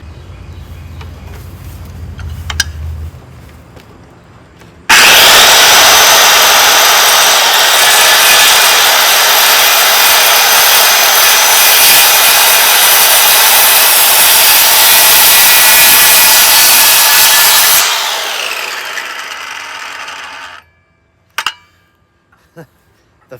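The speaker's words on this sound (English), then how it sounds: "just set my depth on the circular saw, whatever the depth is on those furion strips. Rip a couple lines" A circular saw rips lines along wood strips at set depth, a loud, close, sustained whining cut lasting about thirteen seconds before spinning down, followed by a few faint knocks.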